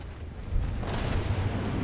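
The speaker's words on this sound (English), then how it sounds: "That looks like a huge cram cannon barrage" A cram cannon barrage in the naval warfare video game From the Depths rolls out as a heavy, booming rumble that swells partway through and stays loud, with no speech.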